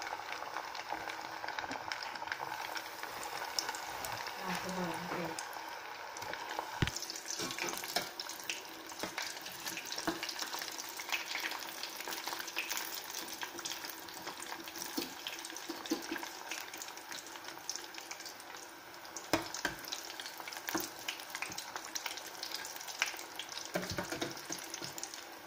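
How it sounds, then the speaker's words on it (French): Makrout dough frying in hot oil, a continuous crackling sizzle with scattered sharp pops and clinks from utensils, close and fairly quiet. "l'huile il est chaude, je commence à frire"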